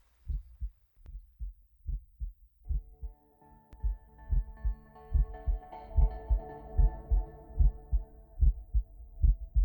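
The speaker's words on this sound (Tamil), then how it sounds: "உங்களோட ஹார்ட் பீட்?" A heartbeat sound effect in a film scene throbs in a steady low double-pulse rhythm, loud and close, joined partway through by a sustained swelling musical drone.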